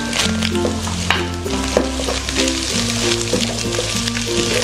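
Egg frying in oil with bird's eye chili, scallion and curly red chili, a steady sizzle with occasional stirring over background music, no talking.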